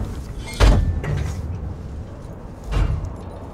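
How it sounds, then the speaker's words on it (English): Two separate mechanical surges from a heavy sliding door opening in Alien: Isolation, each a short loud whoosh with a low thud, with quiet ambience between them. "We can open up this door here."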